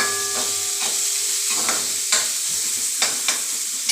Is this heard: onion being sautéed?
yes